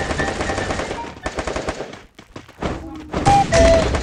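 Rapid automatic gunfire in the Free Fire battle royale game, dense bursts of loud shots and thumps that break off briefly, then resume in heavy volleys, with faint voices underneath.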